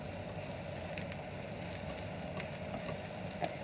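Mushrooms and zucchini sizzle steadily in a frying pan, a soft continuous crackle with a few faint clicks of stirring, quiet and close, with no talking.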